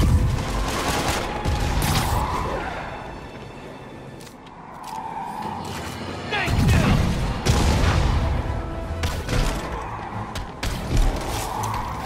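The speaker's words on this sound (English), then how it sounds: "we have reports of live gunfire from prisoners in vehicle." Gunfire in the Spider-Man video game, a chaotic action scene with bursts of shots, booms and engine rush from vehicles, steady and dense throughout. Sound effects are layered over a dark soundtrack.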